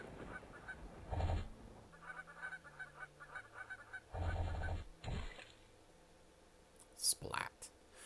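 Golden goose honking in a video game: several short honks in separate bursts, moderately loud, with game clicks and effects and a quiet voice now and then.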